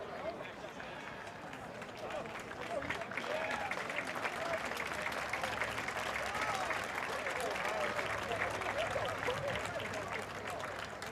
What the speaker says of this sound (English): nice round of applause from the crowd, acknowledging them their effort tonight.